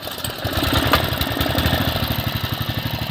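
A small 5.5 horsepower Honda petrol engine runs steadily nearby with a fast, even chugging rhythm and a rattling hum.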